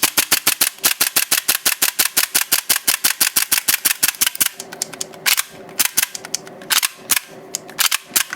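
A TM Hi-Capa airsoft pistol fitted with AKA upgrade parts fires a long rapid string of sharp cracking shots, evenly spaced at first and then more irregular as it runs down, loud and close with no talk.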